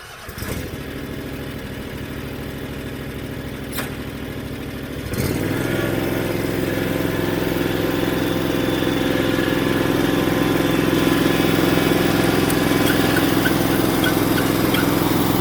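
A Ferris Z3X zero-turn mower engine idles steadily, then at about five seconds its note rises into a louder, fuller running drone that holds steady and close for the rest of the time, with no talk.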